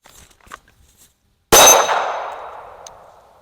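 A single loud pistol shot from a Glock fitted with a Vex trigger shoe rings a steel target with a sharp clang, the metallic ring decaying for about two seconds after a few faint handling noises.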